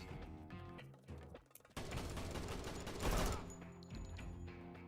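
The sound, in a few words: blind gunfire in the Door Kickers 2 video game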